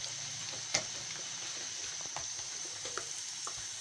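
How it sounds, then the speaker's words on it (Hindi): Potato fries sizzle in hot ghee, a steady crackling hiss with a few sharp pops and spoon clinks, moderately close and free of talk. "लेकिन आज फ्राइज़ हमारी फ्राई हो रही है।"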